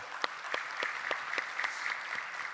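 A church congregation gives a round of encouraging applause, soft and somewhat distant, with rhythmic clapping that is steady and light throughout.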